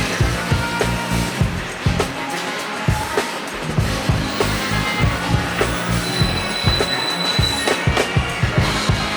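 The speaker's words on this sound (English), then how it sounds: "This monorail continues northbound." A Las Vegas Monorail train runs along the Strip, its wheels giving a steady stream of rhythmic thumps and clacks over a continuous rolling rumble, close and fairly loud.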